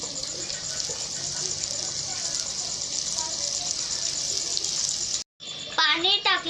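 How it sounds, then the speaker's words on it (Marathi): Water is poured into chicken cooking in a pot over a wood-fired stove, a steady rushing pour with sizzling for several seconds, then a brief cut before a voice talks over simmering. "आता चिकन मध्ये थोडं पाणी टाकते मी."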